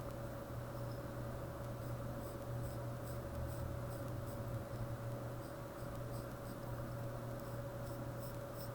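Pencil sketching across paper during a facial proportions drawing, a steady soft scratchy rasp running continuously under a low constant hum, fairly faint and close, with no talking.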